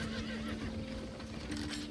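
A horse neighs in the Albion Online fantasy MMO, a whinnying call that runs steadily through the whole short moment at moderate volume, with faint hoof clip-clops beneath and no talking.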